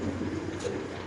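Male Spanish pigeon with a leg ring cooing at a pigeon farm, a soft, low continuous coo heard up close without voices.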